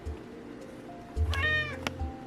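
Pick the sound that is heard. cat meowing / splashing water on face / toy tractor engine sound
cat meowing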